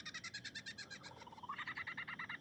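A lyrebird mimicking the calls of other birds: rapid, evenly pulsed trilling notes that shift pitch and pattern partway through, clear and fairly close, with no other sounds.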